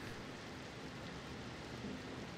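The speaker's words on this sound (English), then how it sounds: "Raining outside." Steady, faint rain falls outside in the horror game Layers of Fear 2, a soft continuous hiss with no distinct drops or talk.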